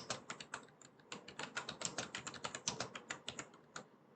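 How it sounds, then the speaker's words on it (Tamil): Rapid keystrokes clatter on a computer keyboard during a Google Cloud Pub/Sub console lab, a close, even run of crisp taps with short pauses and no speech. "ஸோ அதை நான் இங்கே டைப் பண்ணிக்கிறேன்."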